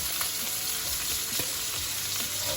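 Steak sears in a hot skillet, giving a loud, dense, unbroken sizzle close up with faint crackles as the meat is shifted around.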